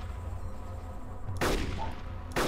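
Gunfire from the video game Arma 2 with the DayZ mod: after a quiet stretch of ambient hum, two sharp, loud shots crack about a second apart, each trailing a short echoing tail.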